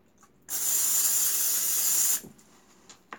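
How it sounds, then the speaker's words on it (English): A steady aerosol spray of cooking spray hisses onto a candle for about a second and a half, close and loud, then cuts off abruptly, leaving faint handling noises. "You're going to take your cooking spray."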